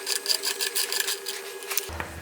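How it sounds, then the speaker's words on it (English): A Fox 32 mm tool on a ratchet loosens the air spring nut on a Fox 38 suspension fork, giving a quick run of close, rhythmic mechanical clicks that ends in a low thunk. "got the Fox 32 tool, 32 millimeter tool to get this off"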